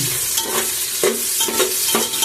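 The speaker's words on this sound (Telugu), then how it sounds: "ఇవన్నీ ఫ్రై చేసుకుంటున్నాం బాగా వేయించుకోవాలి" Vegetables and green chilies frying in a pan for veg biryani, with steady rhythmic stirring strokes scraping through a continuous close sizzle and no talking.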